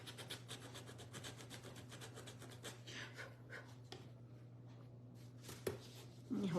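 Sandpaper rubs roughly over the wood of a surfboard wagon in quick repeated strokes, a faint scratchy rasp over a low steady hum, with a brief pause before the strokes resume.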